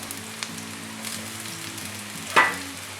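Rice frying in a pan with browned onion and green masala, a soft steady sizzle running under faint stirring scrapes, with one sharper clatter near the end.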